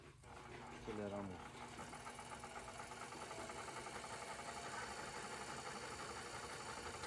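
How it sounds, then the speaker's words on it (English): Roklin VariFlo polymer dispenser gun switched on and running, a steady mechanical hum with a buzzing motor tone that starts abruptly and holds evenly throughout, close and moderately quiet. "Turn on the dispenser gun by toggling the switch on top."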